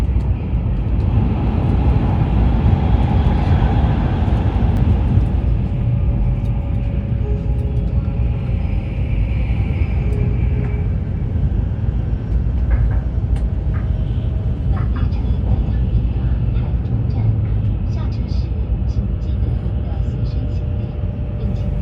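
Steady low rumble and hum inside a Taiwan High Speed Rail bullet train while riding between Kaohsiung and Taipei, continuous and even, with a voice talking over it.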